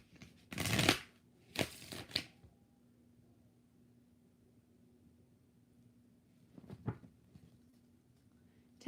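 Tarot cards shuffled in a few quick bursts, two close riffles near the start and a shorter one later, with quiet gaps between.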